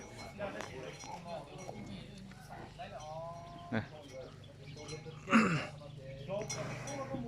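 Water buffalo low on a farm, a few drawn-out moos rising over a quiet outdoor background, with people chatting nearby and a brief louder clink partway through.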